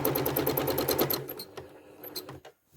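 A sewing machine stitches along a serpentine quilting line, running in a fast, steady whirr of needle strokes for over a second before slowing to a few last stitches and stopping.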